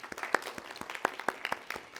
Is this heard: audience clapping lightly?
yes